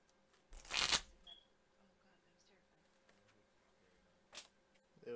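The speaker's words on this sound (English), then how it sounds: "It was a deck shuffling." A deck of cards shuffled during a video game stream, one brief loud riffling burst close by, followed by quiet and a shorter, fainter rustle later.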